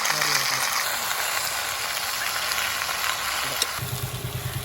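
About a kilo of chopped chicken frying in a hot pan, a constant dense sizzle throughout with a faint low mechanical hum joining near the end.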